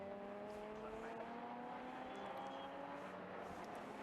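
A race car in the Armed Forces Race Challenge rounds the wet Brands Hatch Indy circuit with its windscreen wipers running. The engine drone is loud and steady, its pitch sliding upward as the car passes.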